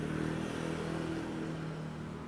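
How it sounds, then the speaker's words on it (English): Scooters passing on a Taipei street on a Sunday morning, a continuous moderate engine whir and road rumble that swells slightly and then eases. "these scooters here in Taiwan, they sound quieter than the ones in the US"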